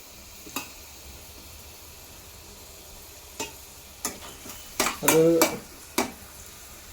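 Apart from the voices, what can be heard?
crushed shallots frying in a pan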